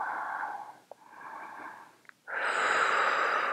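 Breathing during a yoga side bend, two long airy breaths with a brief pause between them, followed by a louder, forceful exhale, close and with no talking.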